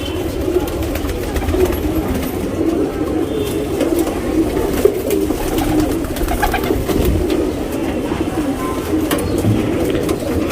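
Flying pigeons readied for a racing tournament coo continuously nearby, a dense layered murmur of calls lasting about ten seconds with no talking.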